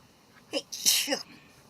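One person sneezes in a quick, breathy burst with a short intake before it, close and moderately loud in a quiet room.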